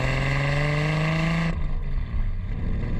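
A Toyota Supra engine on a test drive, revving with a steady rising drone that cuts off abruptly midway, leaving a lower rumble of the car rolling along.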